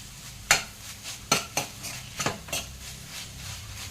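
A spoon stirs a jaggery, grated coconut and gulkand modak filling in a pan, scraping and clinking against the metal in several sharp, close strokes amid a soft sizzle.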